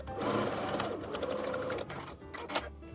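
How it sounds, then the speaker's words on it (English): A sewing machine stitches across the tops of dress panels, a close, steady whirring run that slows and stops near the end. "you're just going to sew across the tops of each panel"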